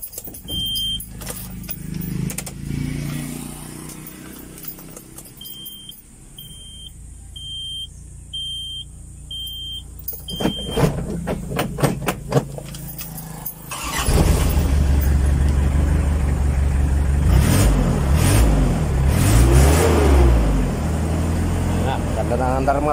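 A Mazda Bongo diesel van beeps a few times while keys jangle and voices talk, then the engine cranks, catches and settles into a loud, rough running and revving roar.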